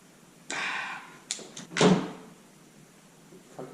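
A junk drawer in a car repair shop is yanked open with a rattling slide, followed by clunks and a heavier shove as it is pushed closed, close and loud, with no talk.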